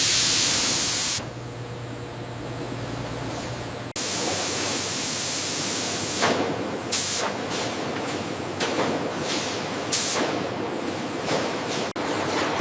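Oil spraying from a nozzle onto metal banana bread molds in a bread factory, a steady loud hiss with short sharp bursts repeating toward the end, over a continuous machine background.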